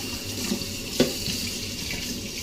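A kitchen tap runs steadily while something is rinsed under it after zesting oranges, giving a close, even hiss of flowing water with one small splash partway through.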